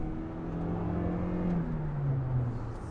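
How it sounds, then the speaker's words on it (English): A steady electric motor whir from a 2021 Toyota RAV4 Prime plug-in hybrid hums under road noise, its tone sliding gradually lower as the car cruises along; no voices. "You can hear the electric motor."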